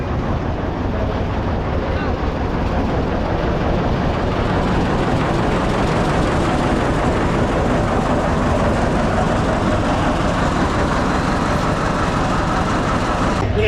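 A toy train runs near the Elephanta Caves, its steady rumbling and rattling continuous and loud throughout, with a faint clickety-clack over a broad wash of outdoor noise.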